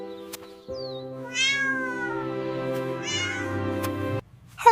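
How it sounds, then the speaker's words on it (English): A cat meows outdoors on a breezy street, two drawn-out, wavering cries close by, heard over a steady low background tone. "The cat is watching me."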